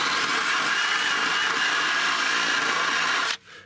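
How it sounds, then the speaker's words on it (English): A power tool drives loudly and steadily into wood while recessing a bolt hole, a continuous harsh whir that runs for over three seconds and then cuts off abruptly, leaving a faint low tail. "I'm gonna recess the bolt into the wood a bit"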